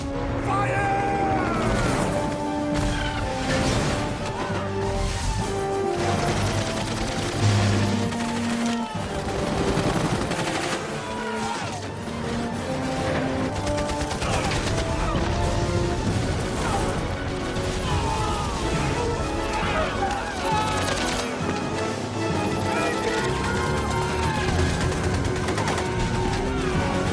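Gunfire rages through a film battle scene, a dense, loud, continuous barrage of shots and crashes over layered music and effects, with shouted voices mixed in.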